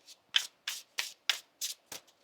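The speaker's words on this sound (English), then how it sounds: "One more shuffle." Tarot cards being shuffled by hand: a run of seven or eight quick, crisp riffling bursts in a steady rhythm, close and fairly quiet, with no talking.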